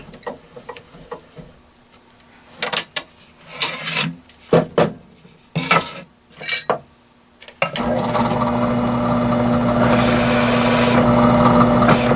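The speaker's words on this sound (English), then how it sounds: "So I'll go ahead and chuck up the countersink, same one I used before." Drill with a countersink bit boring into a wooden DVD player shelf: scattered handling taps and scrapes come first, then a loud, close, steady whir with rasping cutting runs continuously to the end.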